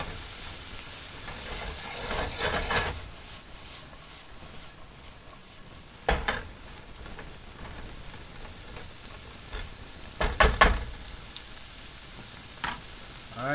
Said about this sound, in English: So we're going to saute that up, stir that around a little bit.